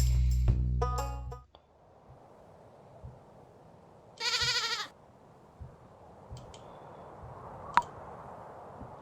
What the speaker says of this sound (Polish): Cztery tysiące i to jest koza.